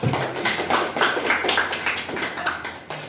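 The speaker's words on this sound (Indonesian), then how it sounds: "Dan aplaus kita berikan secara masing-masing setiap kelompok." A classroom of students applauds each presenting group during an Islamic studies lesson, with a steady burst of clapping that lasts about three seconds and fades slightly at the end.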